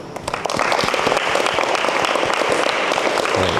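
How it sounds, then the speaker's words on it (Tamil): A congregation claps continuously at the close of a children's day Mass in a church, dense steady applause from many hands throughout, with faint voices mixed in near the end. "கைதட்டு"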